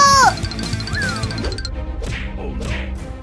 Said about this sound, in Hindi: कैट्स की आवाज आ रही है, लगता है वो किसी मुसीबत में है।